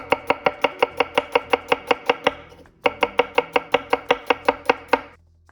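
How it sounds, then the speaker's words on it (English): Onions for a Spanish tortilla are sliced thinly by hand, the knife striking the cutting board in quick, even taps, pausing once briefly before the rhythmic chopping resumes, close and crisp. "these onions you can slice by hand"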